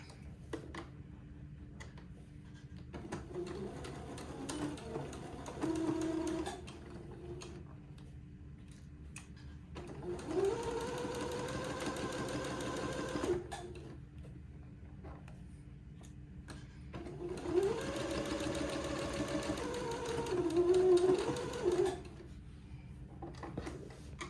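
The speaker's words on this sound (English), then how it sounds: "one at a time, I'll sew these entre-deux seams up at the shoulder" A sewing machine stitches entre-deux shoulder seams on a baby daygown in three separate bursts of fast, even whirring, each lasting a few seconds, with quiet ticking gaps between them, near and moderately loud, no talk.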